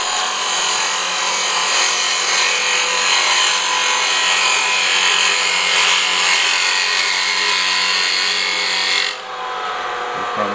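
A woodworking tool cuts across wood while a bowl is being shaped. The rubbing, scraping sound is loud and steady, close by, and drops away sharply near the end.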